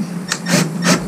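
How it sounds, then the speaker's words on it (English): Screws go into wood during restoration of a 1984 Alpine GL Sprite caravan, with three short close rasping grinds in quick succession over a low steady hum. "Putting some screws in here."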